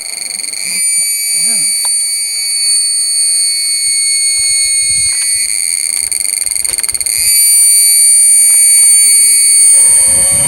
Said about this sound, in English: they sure do have some loud cicadas here in Belize